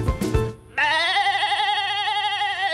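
A voice imitates a goat, producing a loud, wavering nasal bleat that lasts about two seconds after a short burst of noise.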